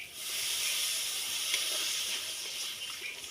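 Water poured into a hot, well-fried curry of banana, potato and bara gives a steady broad hiss, like steam off a pan, lasting throughout at moderate loudness with no voices.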